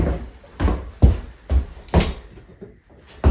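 A door in a house's basement area in Canada thumps and knocks in a loose rhythm of about six close, fairly loud impacts with short gaps between them.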